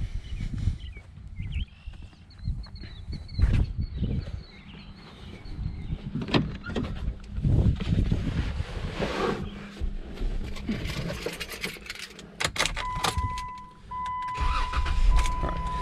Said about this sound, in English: we want to go ahead and start our donor vehicle.